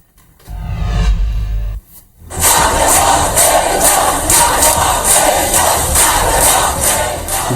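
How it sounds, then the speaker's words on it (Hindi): A loud, dense crowd at Tehran airport cheers and applauds the returning athlete Elnaz, a steady roar of voices and clapping after a short opening burst of noise. "जहां एथलीट एलनाज के वापस ईरान लौटने पर तालियों की गड़गड़ाहट ने उनका स्वागत किया।"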